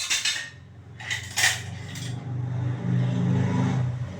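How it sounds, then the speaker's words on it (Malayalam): Steel spoon dropped into a pressure cooker holding rice and water, a few bright metallic clinks and clatters up front, then a low rumble as the pot settles, with no speech. "ഒരു സ്പൂൺ ഇങ്ങനെ ഇടുകയാണ്."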